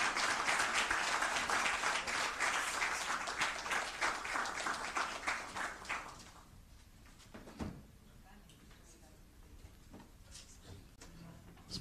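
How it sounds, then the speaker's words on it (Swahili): Applause from an audience at an NMB Bank annual financial report presentation, clapping at moderate level for about six seconds and then fading out, leaving quiet room noise with a few faint knocks. "Makofi mengi sana tafadhali."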